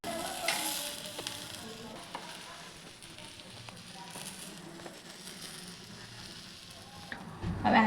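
A bread sandwich with cheese frying in oil on a pan, a soft continuous sizzle and crackle with occasional scrapes, growing louder and sharper near the end.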